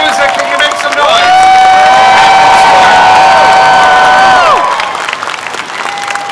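A big convention crowd at ComicPalooza roars, cheers and applauds loudly for Patrick Stewart. Whoops and shouts ring out over steady clapping, and the swell peaks mid-way before easing slightly.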